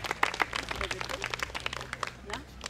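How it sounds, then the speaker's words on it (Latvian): A crowd applauds a teachers' choir at a Līgo midsummer festival in Tukums, with dense, fast clapping spread across the clip and voices mixed in. "Aplausi!"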